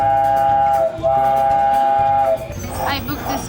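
A theme park train ride at Hossoland rumbles along, with two long, loud whistle blasts separated by a short gap, followed by quieter rolling noise and voices.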